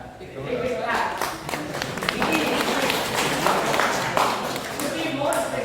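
A lecture-hall audience claps for a student during a satellite communication lecture, steady scattered applause lasting several seconds with a voice talking over it.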